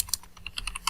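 Rapid keystrokes on a computer keyboard while code is typed, about eight crisp clicks in under a second, close and clear with no talking.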